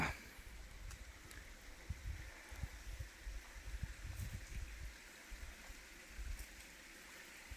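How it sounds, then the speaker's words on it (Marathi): A clear mountain stream flows steadily nearby with a soft continuous babble and occasional splashes, no one speaking. "सुंदर पाणी वाहत आहे स्वच्छ पाणी आहे"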